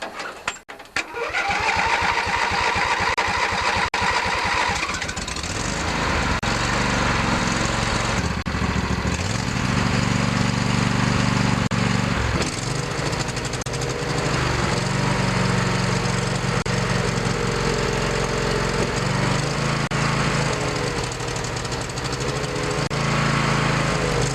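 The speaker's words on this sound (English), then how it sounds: "Now I'll start it up. It hasn't started for a while, so I'm going to have to turn over quite a bit." A lawn tractor engine that has sat unused cranks over briefly, then catches and settles into a steady, loud, close running drone that holds for the rest of the stretch.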